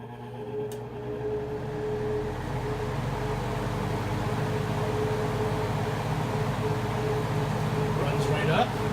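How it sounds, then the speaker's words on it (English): A 1958 Westinghouse two-speed reversible box fan runs in reverse, a steady low motor hum with a broad airy whoosh that builds as it spins up, close by, and a person talks over it. "So we're going to run it reverse first, but it will spin in the normal clockwise direction you're used to."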